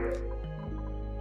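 Water dripping and splashing in Oxygen Not Included, a short run of soft wet drips and liquid squishes layered over a steady low game-music drone, with no talking.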